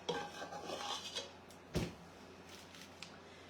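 Metal pans of freshly poured pecan brittle are shaken and jostled, giving scraping and clattering with one sharp knock near the middle, close and fairly quiet with no talk.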